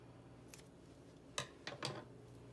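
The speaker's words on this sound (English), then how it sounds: "I'm going to snip the edge." Scissors snip the tip of a piping bag filled with white chocolate, a few short, sharp cuts close by in a quiet room.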